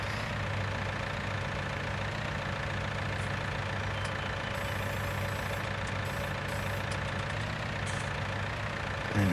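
A tractor engine in Farming Simulator 19 idles and runs steadily at a low, even pitch, close and continuous for the whole stretch, with no talk over it.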